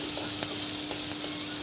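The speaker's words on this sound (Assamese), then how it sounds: "এই শামুকখিনি এতিয়া কেৰাহীত ঢালি দিম। তাৰপিছত অলপ ধুনীয়াকৈ মানে ভাজি কৰিম" Snails frying in a wok with salt, onion and spices give off a steady, close sizzle, broken by a few small pops and stirring clicks, with no voices over it.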